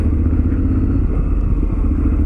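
A Honda X-ADV motorcycle cruises through Aizuwakamatsu in the early morning, its engine a steady, loud low drone with wind rush and no pauses.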